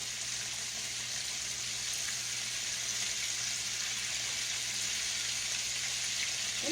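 Whole catfish frying in a pan of oil, a faint, steady hiss and sizzle holding evenly throughout with no talk.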